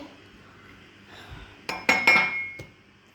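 A used tea cup being washed by hand gives a few sharp ceramic clinks and knocks near the end, close and fairly quiet against a soft background hiss.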